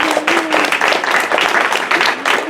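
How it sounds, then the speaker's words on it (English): Audience applause at a furry convention game show, Furry Jeopardy at Anthro Northwest 2019, with a steady dense wash of clapping and a faint voice or tone running underneath throughout. "So big round of applause to them."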